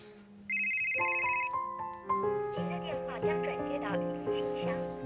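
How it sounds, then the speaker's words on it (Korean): A bright electronic ringtone melody plays clearly, its tones stepping through a repeating pattern over steady background sound. "전화가 걸려오는데요"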